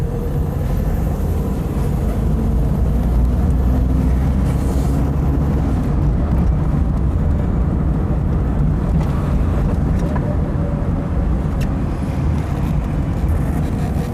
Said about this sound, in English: And here we go, driving away from Kelsey headquarters.